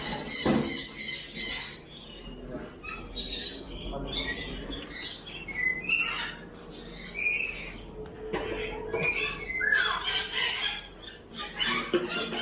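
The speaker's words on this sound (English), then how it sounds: "Look at the bird." Birds squawk and chirp in a busy Dubai animal market, with sharp, overlapping calls rising over a constant background hubbub of other creatures and movement.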